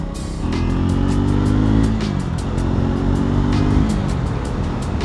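A 400cc motorcycle engine pulls loud and close while riding, with its pitch climbing through gears and a brief dip and rise midway. A steady rumble continues under rapid ticking.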